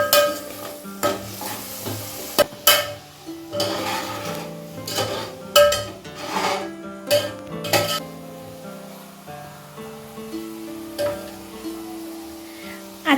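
Sliced onions sizzle and fry in a pan for chicken biryani, with a spoon stirring and scraping in sharp, irregular strokes and clinks over the steady crackle; no one talks.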